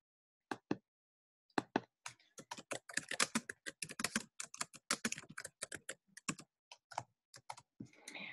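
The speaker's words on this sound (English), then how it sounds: "I'm just going to type test." Someone types on a computer keyboard while composing an email: bursts of crisp, close key clicks in an uneven rhythm, picking up into rapid strings after a brief pause, with no voices.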